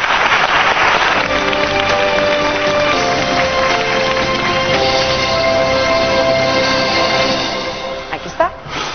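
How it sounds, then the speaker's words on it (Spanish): An audience claps steadily at a televised Spanish-language show, a dense, even applause that holds for several seconds, with music playing underneath, before fading out near the end. "Un aplauso para él."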